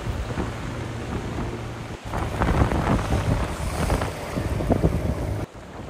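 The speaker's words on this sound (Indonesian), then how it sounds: "Hujan pun mulai turun dan angin mulai membuat ombak semakin besar." Rain and gusting wind at sea around a fishing boat out for tuna off Papua, a steady loud roar with rough buffeting wind on the microphone throughout, no talk.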